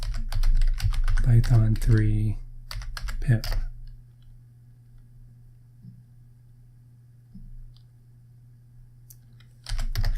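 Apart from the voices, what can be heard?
typing a terminal command on a computer keyboard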